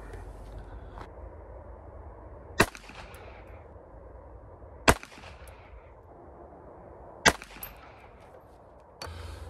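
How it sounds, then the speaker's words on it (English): A Walther PPK pistol firing .32 ACP rounds outdoors, four sharp separate shots spaced a couple of seconds apart over a quiet background. "we're gonna shoot the Walther PPK"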